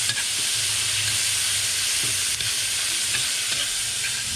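Onion and tomato sautéing in a hot pan, giving a continuous close frying sizzle with occasional stirring clatter, no voices.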